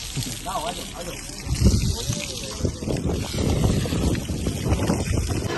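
Water poured over a goat during a bath before Bakra Eid, splashing and gushing in uneven bursts near the microphone, with a person talking over the sound and some wind noise.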